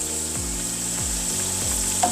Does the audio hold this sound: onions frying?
yes